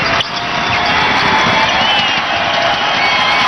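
A basketball crowd at the Laredo Entertainment Center roars as a Houston Rockets NBA preseason game ends, a loud, sustained wash of cheering and shouting that stays level from start to finish.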